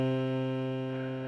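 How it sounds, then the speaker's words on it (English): A piano sounds low C, one octave below middle C, as a single sustained tone with a rich harmonic stack that slowly decays, heard alone without talk. "Now, the note that is 8 notes, or 1 octave below middle C, is called low C"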